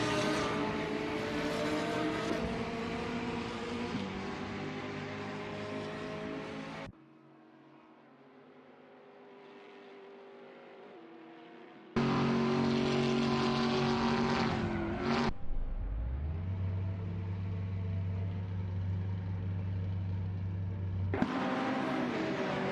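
A race car's engine drones in a racing video game, loud and steady, then cuts out briefly before returning with a rising pitch as it accelerates. No voices.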